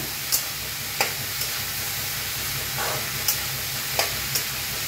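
Washed cabbage is stirred into hot oil and roasted in a pan, giving a constant low sizzle broken by several sharp clicks and scrapes of a spatula at irregular intervals.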